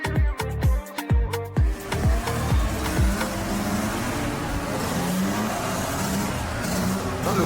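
A Mercedes E63 engine gives a series of sharp, loud revs that rise and fall in quick bursts close by, then settles into a steady rumbling drive-by roar.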